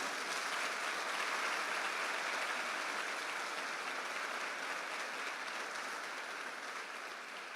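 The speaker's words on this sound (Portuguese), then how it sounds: "dá um aplauso bem lindo para Ele" Church congregation applauding in a steady, dense wash of clapping that holds at a fairly even level throughout, with no voices rising above it.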